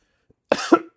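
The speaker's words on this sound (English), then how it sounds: "pardon me if I got to clear my throat a lot." A man with allergies coughs sharply twice in a row, close and loud, then the sound stops into silence.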